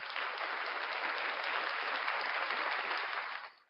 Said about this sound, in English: round of applause for Brooklyn Audits getting arrested